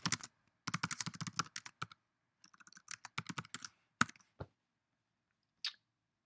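Someone types a short code comment on a computer keyboard, quick close clicking bursts separated by brief pauses, with a few isolated louder key taps toward the end, no talking.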